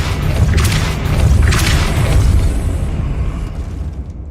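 A Depulso spell goes off in Hogwarts Legacy as a deep, booming thump followed by a rumbling, fading wash. Loud and close, with no voices.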